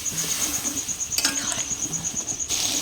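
Dal boils in a pan over a high flame, a close, steady churn of bubbling and hiss with a thin constant whine running through it and a brief brighter splash near the middle.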